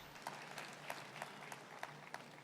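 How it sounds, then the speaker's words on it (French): Audience applause at a church service, a faint, steady patter of clapping from a crowd with a few sharper claps standing out. "Applaudissons pour Jésus-Christ."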